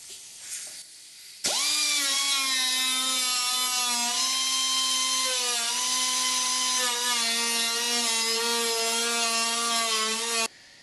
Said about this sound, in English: we can do that too by using our pad and a die grinder and carefully cleaning it up